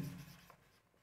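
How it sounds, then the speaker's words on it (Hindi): Marker or chalk strokes on a board during a Class 10 trigonometry lesson, a soft, brief scratchy writing sound, fairly faint and alone. "यहाँ पे लिखेंगे"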